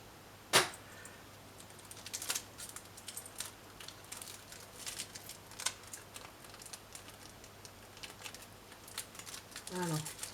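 Crinkling and tearing of plastic packaging on an oracle card deck opened by hand, with sharp rustles and clicks in irregular bursts, close up.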